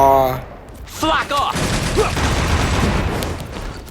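Gunfire from a fire gun weapon in the mobile action game Devil May Cry: Peak of Combat, a dense rapid burst of shots running steadily for several seconds after a short lead-in.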